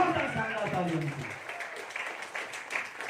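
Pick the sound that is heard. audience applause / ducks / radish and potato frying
audience applause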